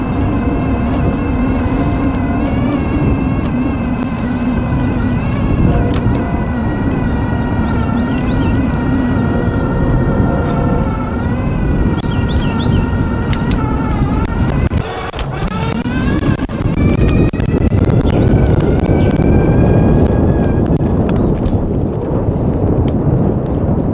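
An URB-E Sport GT electric scooter climbs a hill, giving a loud continuous motor whine that rises and falls in pitch over steady wind and road rumble.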